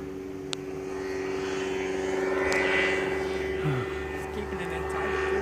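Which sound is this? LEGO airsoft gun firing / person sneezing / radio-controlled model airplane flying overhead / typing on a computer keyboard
radio-controlled model airplane flying overhead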